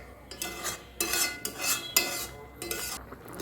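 A spoon scrapes and stirs carrot vermicelli and milk in a pan with repeated metallic clinks against the pan bottom, coming in quick uneven strokes at close range with no talking.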